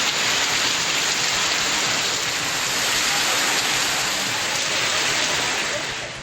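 Heavy rain lashes down with wind across Periyakulam in Tamil Nadu's Theni district, a dense, loud, unbroken roar of downpour holding steady throughout.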